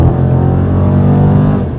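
A Dodge Challenger 1320 fitted with a Hellcat air box, its V8 roaring under hard acceleration, a loud, dense, close engine note that holds steady for under two seconds.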